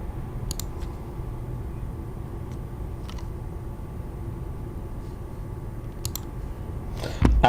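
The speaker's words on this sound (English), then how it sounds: "you'll be hearing a lot of clicking of the mouse" A computer mouse on a desk close to the microphone gives a handful of sharp, isolated clicks spaced seconds apart over a steady low room hum, with no talking.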